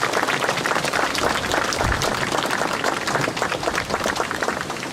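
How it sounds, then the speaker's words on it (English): An audience at a Vietnam Veterans Day celebration applauds a high school Army Junior ROTC color guard and a chorus, dense sustained clapping filling the hall, loud and steady throughout. "Let's give them a big round of applause."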